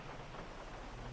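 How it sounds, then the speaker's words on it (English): Steady rain with low thunder rumbling in a video game, a continuous dense wash that is faint and distant, with no voices. "Get out of the rain."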